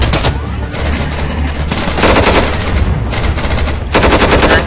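Sustained automatic gunfire from the tactical shooter game Insurgency, loud and close, with rapid bursts running almost continuously and heavier volleys near the end.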